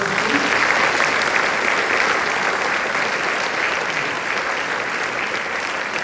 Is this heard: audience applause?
yes